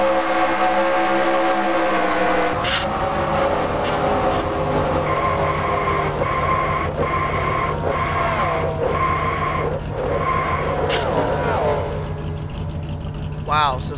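A race car in a racing video game slams into a wall at nearly 200 mph, heard from the onboard view: loud engine drone, then a sudden impact followed by screeching, grinding tones as the car scrapes along, with a commentator's voice over it.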